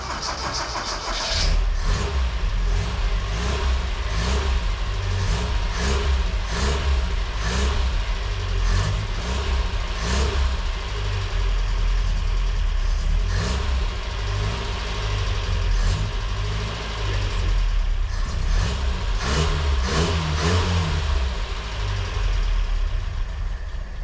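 A car engine cranks over and catches, then revs in repeated sharp bursts between rough idling, loud and close for over twenty seconds with no talk.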